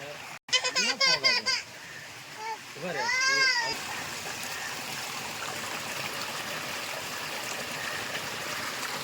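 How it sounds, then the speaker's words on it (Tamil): Water rushes steadily as a waterfall pours, with splashing throughout from people bathing and playing in it; voices and a child's laughter-like sounds rise briefly near the start. "அருவியில் விளையாட"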